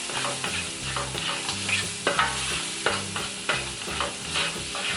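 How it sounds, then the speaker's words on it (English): Peppers frying in a pan on a stove over medium-high heat are stirred, giving a busy sizzle with rhythmic scrapes and taps of the spoon against the pan, close and fairly loud. "We're just gonna mix all of this together, and this is medium-high."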